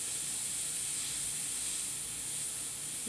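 An airbrush sprays paint with a soft, steady high-pitched hiss from close by, the trigger held down with no pauses.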